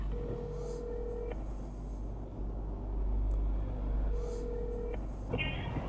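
A telephone ringback tone sounds twice while waiting for a Kyiv 102 police operator, two long steady beeps separated by a pause of a few seconds, over a low rumble of background traffic.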